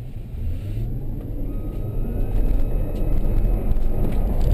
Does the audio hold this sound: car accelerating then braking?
yes